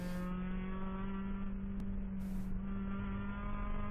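Race car engine at the VIR ChampCar endurance race, a steady droning note held under a loud continuous roar as the driver stays on the throttle heading into a corner, no voices.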